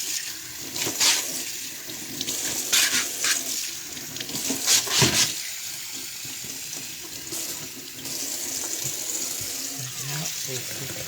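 Running tap water over sausage casings being washed in a sink, a steady splashing stream with bursts of louder gushing, close by, with a voice speaking intermittently over it.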